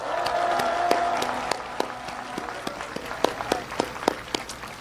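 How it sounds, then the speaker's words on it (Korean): Crowd at an outdoor presidential campaign rally in Namyangju gives supportive applause, starting as a soft wash and thinning into scattered individual claps, moderately near. "힘내시라고 우리 연대의 박수 한번 부탁드립니다."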